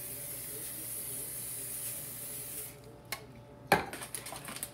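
Cooking spray misted over bread laid out on a baking sheet, a steady close hiss lasting a few seconds, followed by quiet clinks and taps of kitchenware.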